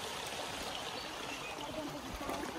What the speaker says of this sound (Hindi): ये जो हमने झरना छोड़ा था रास्ते में वहीं पहुंचे